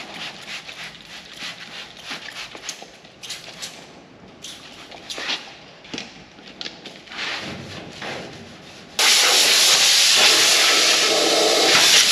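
Spray primer hisses onto the cut-out floor metal of a custom 1940 Dodge, first in short bursts amid shuffling and clatter, then a long steady loud spray near the end.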